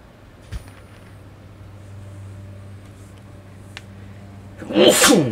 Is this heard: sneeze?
yes